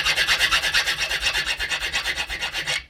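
A fine-grit stainless steel file rasps steadily across a Civivi Hadros knife, about twenty quick back-and-forth strokes in an even rhythm, close and fairly loud, alone without talk, stopping abruptly at the end.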